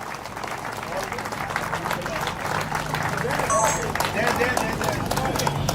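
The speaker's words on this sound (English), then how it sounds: "Big round of applause for all the sponsors and partners." Crowd applause and clapping for sponsors at a 10K running challenge in Bengaluru, a steady wash of many hands under an announcer's voice and crowd noise throughout.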